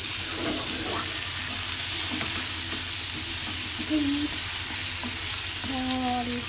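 Spiced vegetables stirred in a hot pan on a home stove, a steady sizzle and frying hiss with soft scraping strokes of a spoon, close and continuous, with a faint tap or water trickle in the background.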